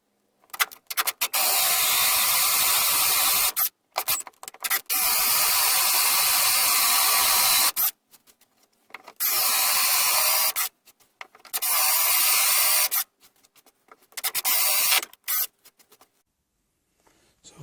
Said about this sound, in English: I'm going to drill a hole through with a forcing a bit to give it clearance to go all the way through